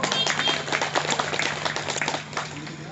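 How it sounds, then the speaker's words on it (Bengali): Audience clapping at a political workshop meeting in West Bengal, a steady patter of many hands that fades slightly toward the end. "তার জন্য একবার আমি হাততালি দিতে বলবো"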